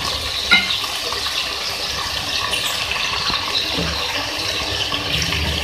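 Water pours steadily into a pan of cooking masala spiced with red chili and coriander powder while preparing dhaba-style daal mash, a continuous close splashing gush with no talk over it.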